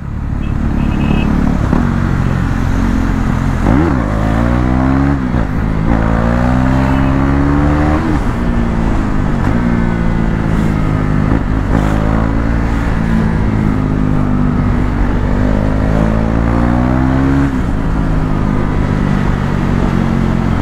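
A KTM Duke 390 motorcycle engine screams at high RPM, loud and close, with repeated rising revs and brief dips between gear changes, holding a dense, continuous roar throughout.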